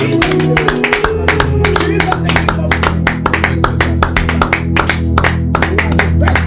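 A church congregation at a prayer retreat claps to acclaim the Lord, steady rhythmic handclaps over music with a sustained bass and organ-like drone, loud and close.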